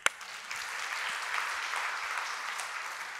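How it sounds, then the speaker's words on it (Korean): Steady clapping from a church congregation at a healing service, dense and continuous for a few seconds, with a sharp onset at the start. "우리 하나님께 박수"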